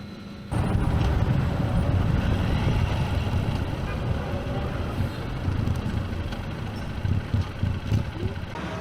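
A motorbike riding along a road in Vietnam, steady engine drone and road rumble that starts abruptly and holds loud and continuous, with wind noise and slight fluctuations in the engine note.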